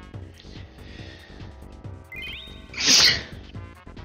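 A single sharp sneeze bursts out near the end amid a playful, chirpy game-style soundtrack of plucked notes and a rising whistle.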